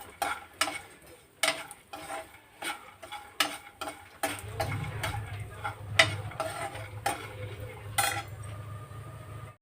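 Semolina for rava laddu being stirred and roasted in a pan, a spoon scraping in repeated sharp strokes, with a low background hum joining partway through; no one speaks.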